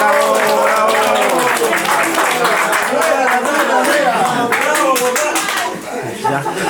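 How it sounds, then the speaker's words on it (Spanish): A room of guests at an engagement celebration claps loudly and steadily, with cheers and voices mixed in, and the applause thins out toward the end. "Aplausos. Bravo, bravo."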